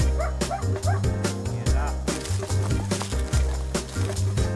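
Small pointing dog barking and yipping repeatedly outdoors during hunting work, sharp close barks mixed with whimpers over busy background noise.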